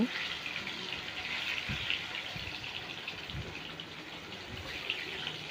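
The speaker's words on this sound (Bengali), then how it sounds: "সেই প্রত্যেকটা মুইঠা আমি একে একে গরম তেলে, বেশ ডুবো তেলে আমি ভেজে নিচ্ছি" Fish balls (muitha) deep-frying one by one in plenty of hot oil, a steady, close bubbling hiss that runs continuously with faint soft knocks now and then.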